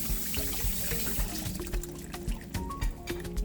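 Halwa liquid mixture with flour is poured through a strainer, a close, steady trickle of liquid running throughout, with a low hum beneath and no talking.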